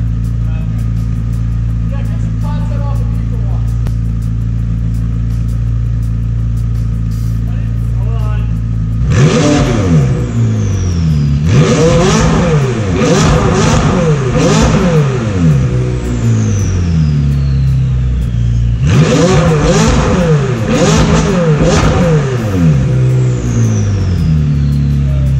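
A stationary car engine revs hard in two long bursts, climbing and falling repeatedly after a steady idle, loud and close, with people talking over it.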